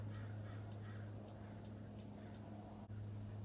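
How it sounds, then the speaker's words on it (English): A hummingbird in a tree gives a series of six short, high, sharp chirps at even intervals, heard over a steady low hum. "That's a hummingbird chirping at me."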